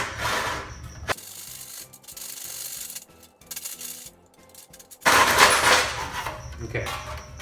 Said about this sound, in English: anytime you're using a hacksaw, you want to let the blade do as much, of the cutting